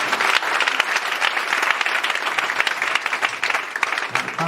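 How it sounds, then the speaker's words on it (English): A church congregation claps for Jesus during a sermon service, a loud continuous wash of many hands close by that stays strong throughout, with faint voices mixed into the crowd. "Clap for Jesus one more time."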